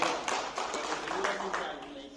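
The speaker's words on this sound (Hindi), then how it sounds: "आइए, जोरदार तालियों से कीजिए।" Audience applause at a Rajasthan community blood donation camp and talent award ceremony, a dense wash of clapping that stays steady and fairly loud throughout the short span.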